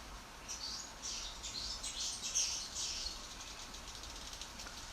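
Indian swiftlets calling in a series of faint, distant high chirps and twitters over a steady background hiss.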